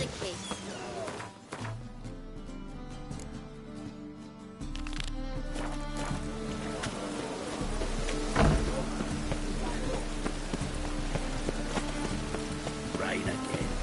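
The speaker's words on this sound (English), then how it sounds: "Rain again." Steady rain in The Witcher III video game, a dense pattering hiss that thickens partway through, with scattered thuds and game sounds mixed in.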